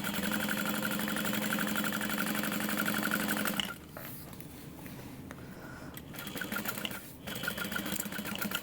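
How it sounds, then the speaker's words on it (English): A sewing machine stitches the bottom seam of a Minerva tote bag, a fast, steady mechanical hum for several seconds that then drops to slower, quieter stitching with short pauses. "We're just going to sew a couple inches of the bottom shut so that I can square the bag"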